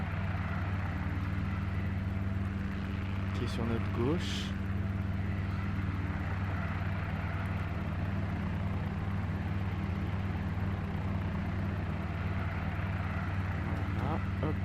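A Cabri G2 helicopter in X-Plane 11 drones with a steady rotor and engine hum while taxiing, and someone talks over it throughout.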